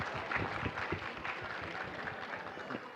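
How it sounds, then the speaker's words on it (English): A school audience applauds for the nation during an event, a fairly loud, steady wash of many hands clapping throughout with a few sharper claps standing out. "have a huge round of applause for our nation"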